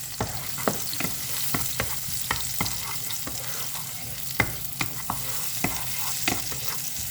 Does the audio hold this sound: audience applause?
no